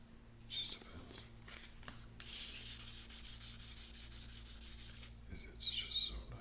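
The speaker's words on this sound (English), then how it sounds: "sanding can be therapeutic or tedious" Steady hand sanding of natural wood, a continuous scratchy rubbing with short strokes and a low background hum throughout.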